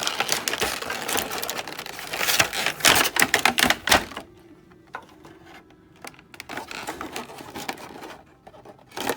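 A Skeletor action figure is pulled from its plastic blister packaging, with close, busy crinkling, clicking and tearing of plastic for about four seconds, then sparse quieter handling noises.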